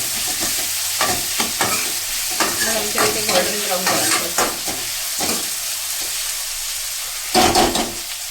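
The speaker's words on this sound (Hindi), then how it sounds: "प्याज हाफ फ्राई करा ज़्यादा नहीं अच्छी फ्राई करा प्याज में" Onions frying in a pan give a loud, continuous sizzle, with clustered crackles and spatters and bursts of stirring, heard close and alone.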